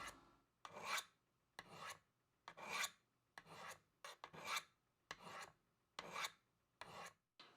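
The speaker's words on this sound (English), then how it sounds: "draw the knife down with light pressure as if you were cutting the stone" A knife is drawn down Sharpmaker sharpening stones with light pressure, making about ten crisp, close rasping strokes in an even back-and-forth rhythm with quiet gaps between them.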